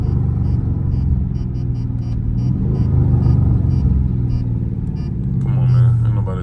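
A loud Dodge Charger Scat Pack rumbles with a deep, steady engine drone while cruising on the street, close and continuous, with someone talking over it throughout.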